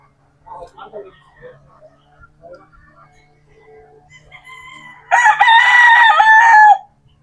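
Crowing from white Kelso gamefowl: scattered soft clucks and faint calls at first, then one loud, close, sustained crow near the end.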